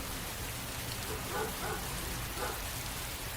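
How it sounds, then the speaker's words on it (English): Steady rain in the video game Heavy Rain, a dense, even hiss that holds throughout at a moderate level, with a few faint, brief tonal blips rising above it. "It's raining. I'd better get back inside."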